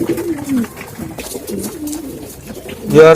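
Pet pigeons coo in repeated low, throaty phrases up close, with a louder, busier burst of cooing and rustling near the end and a faint voice in the background.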